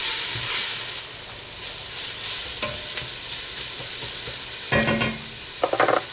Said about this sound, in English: Dropping it in to that sesame oil that's already hot. Give this a stir.